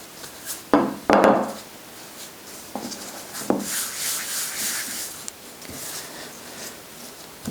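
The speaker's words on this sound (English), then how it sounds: "We'll roll it out so we can get it into our tart pan." A rolling pin works tart dough on a floured surface, giving scraping, rubbing strokes with a couple of louder thuds and bumps early on, close and fairly quiet, without talk.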